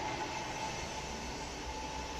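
Inside a Flixtrain passenger train running out of Stockholm, a steady broadband rumble and rushing roar continues without a break, fairly loud, with a faint tonal hum above it and no voices.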